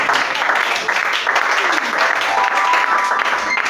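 A church congregation applauding in acclamation of Jesus during a worship service, a dense, loud wash of clapping that holds steady throughout, with voices mixed in.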